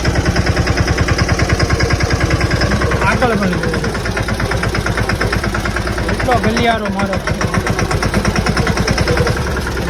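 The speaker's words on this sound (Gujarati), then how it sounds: "આપણું મિની ટ્રેક્ટર નીકળી ગયું છે" A mini tractor engine thumps in a steady rapid rhythmic putter, close and loud, working a cotton field, with someone talking over the running engine.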